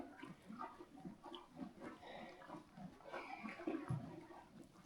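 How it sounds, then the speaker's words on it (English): Horses munching a breakfast of alfalfa, speedy beet and herbs, a soft steady crunching and chewing close by with occasional snorts and shuffling, no talk. "than the sound of horses having breakfast"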